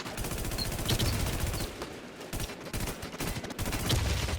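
Rapid gunfire in a video game, dense bursts of automatic shots rattling close and loud in near-continuous sequences with a brief lull in the middle.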